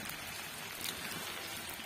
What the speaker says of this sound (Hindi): बाहर बारिश हो रही है 2-3 दिनों से